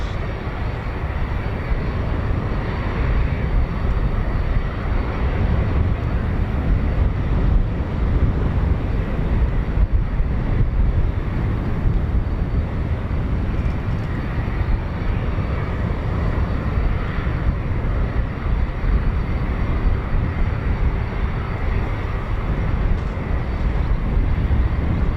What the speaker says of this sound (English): It's a F-15.